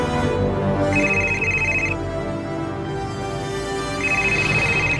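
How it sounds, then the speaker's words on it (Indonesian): A phone ringtone rings in repeated electronic bursts over a busy room tone with a low music bed, sounding fairly loud and close. "Rehan pasti telepon Umi"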